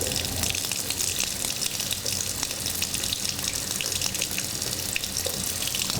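Water runs steadily from a tap as soapy hands are rinsed beneath it, a continuous close splashing gush with no pauses or voices.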